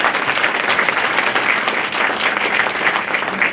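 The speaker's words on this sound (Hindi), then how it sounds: "इसके लिए जोरदार तालियों से" A room of bar council members applauding a newly elected chairman, dense, steady clapping from many hands throughout, fairly loud and close.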